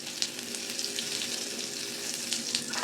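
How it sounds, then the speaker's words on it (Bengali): Radhuni seeds and a bay leaf sizzle in hot oil as a tempering for a Bengali gourd dish, a steady close crackle with a few sharper pops and no voices. "রাঁধুনি আর তেজপাতাটা ফোড়ন দিলাম।"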